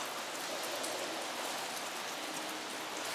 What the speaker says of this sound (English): as you see it's raining like crazy